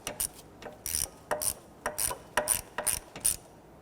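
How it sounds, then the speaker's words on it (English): Close, even ratchet clicks snug down plastic timing cover bolts on a 1992-1996 Toyota Camry 2.2L, about a dozen strokes at a steady rhythm, each with a bright metallic tick. "Let's go ahead and gently snug down those 4 bolts."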